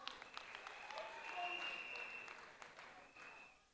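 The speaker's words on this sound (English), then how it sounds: "Una clap for Ambo." Clapping from an audience at the Miss Sierra Leone 2023 pageant, a faint, distant patter of hands mixed with crowd voices and an announcer's speech over a sound system.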